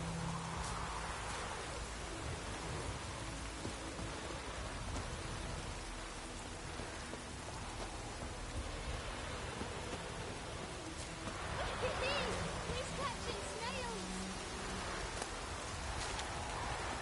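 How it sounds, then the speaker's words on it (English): Rain falls steadily in the video game Witcher 3, a continuous soft hiss of drops with faint low rumbles swelling in and out. "Let it rain."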